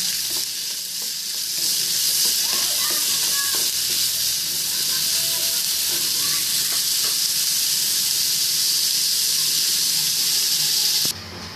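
Chopped onions fry in oil in a kadai toward brown beresta, a close, steady sizzle and hiss that runs unbroken for about eleven seconds before cutting off.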